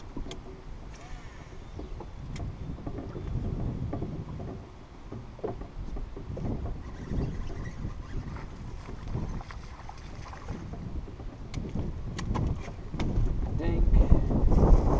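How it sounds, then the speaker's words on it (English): Wind gusts across a lake and buffets the microphone while fishing from a boat near lily pads, a rough rumbling roar that swells and fades, with light water and boat knocks and occasional speech underneath. "The wind's really kicking my butt"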